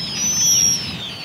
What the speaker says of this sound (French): Un grand gravelot.